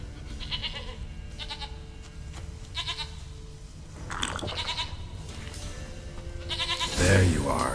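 A goat bleats several times in The Witcher 3, in short nasal calls spaced across the stretch over quiet in-game ambience, with a louder burst of sound near the end.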